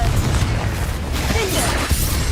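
A Confringo blast spell exploding in a video game, a loud, dense rumbling boom filling the clip with bursts and crackle, mixed with game sounds and a brief voiced call.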